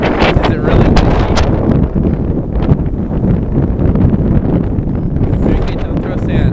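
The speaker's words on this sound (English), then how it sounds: "Is it really windy?" Strong wind buffets the microphone at the beach, a loud, continuous rumbling roar with gusty bursts throughout.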